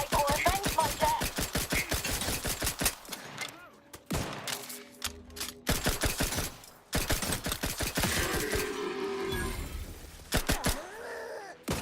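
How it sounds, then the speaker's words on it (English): Rapid gunfire in The Outer Worlds 2, loud bursts of closely spaced shots that stop for short lulls and then start again, with grunts, groans and game sounds filling the gaps between the volleys. "I'm shooting my comrade"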